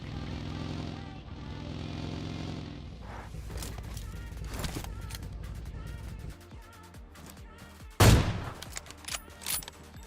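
AWM sniper rifle gunfire in PUBG Mobile: one loud, sharp shot bursts out near the end, followed by a few smaller thumps over steady game background noise and music.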